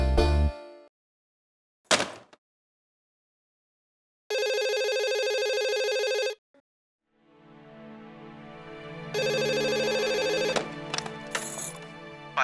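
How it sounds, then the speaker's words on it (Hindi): A telephone rings in a television drama scene, with two sustained electronic ringtone bursts separated by silence and a few sharp clicks, the later ring overlapping a swelling musical background. "पायल जी देखिए, मैं आखिरी बार कॉल कर रहा हूँ।"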